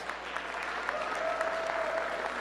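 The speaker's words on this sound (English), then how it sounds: "Give them a round of applause." An audience applauds community partners at a mayoral event for an attendance campaign, steady moderate clapping from a crowd held at an even level throughout, with a faint tone running beneath it.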